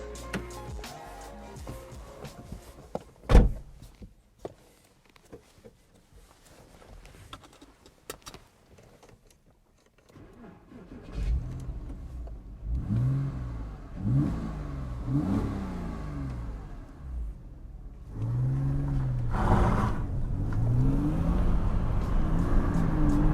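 A high-mileage first-generation Porsche Cayman 987 starts and pulls away: a sharp ignition burst after quiet cabin noises, then a rising and falling engine note through repeated revs and gear changes, growing louder toward the end.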